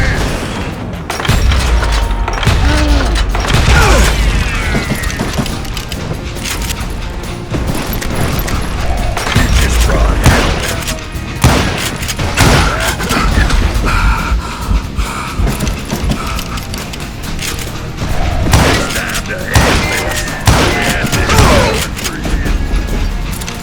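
Gunfire in Call of Juarez Gunslinger, a Wild West shooter: loud, rapid revolver and rifle shots in dense bursts with heavy booms and impacts over a continuous battle din, with occasional shouted game voices.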